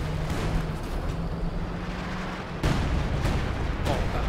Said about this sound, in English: And here we go again with the howitzer barrage.